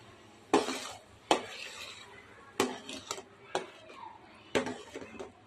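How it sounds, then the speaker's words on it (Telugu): A pot of jaggery melted in water is stirred with a utensil, giving several sharp clinks and scrapes of metal against the pot, spaced out over a few seconds, close and fairly quiet. "ఒకసారి కలుపుదాము"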